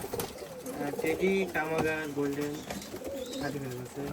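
Pakistani flying pigeons coo in a loft, several birds overlapping in soft rolling throaty calls at close range, with faint voices and background bustle underneath.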